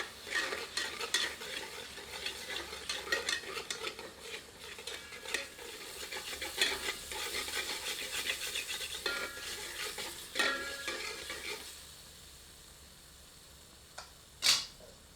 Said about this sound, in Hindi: सबको मिलाकर 2 मिनट मध्यम आंच पर भूनते हैं।